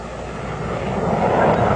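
A Northrop YF-23 Black Widow jet engine roars steadily on takeoff, its broadband rumble swelling slightly louder toward the end as the aircraft climbs away.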